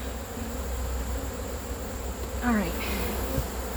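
Angry honeybees swarm an opened hive, buzzing in a dense, continuous drone close by. A person speaks briefly and there are a few handling noises partway through.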